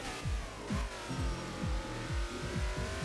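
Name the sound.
race car engine in video game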